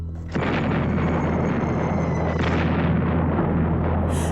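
Bombs exploding during the Vietnam War: a deep, heavy roar of blasts that swells suddenly and rumbles continuously, loud and close, with no voices.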